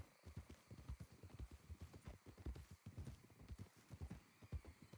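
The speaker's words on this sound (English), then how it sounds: "Thought I heard horses." Horse hooves clip-clop in a western role-play video game, a rapid galloping rhythm of close, clear hoof strikes continuing throughout, with no voices over it.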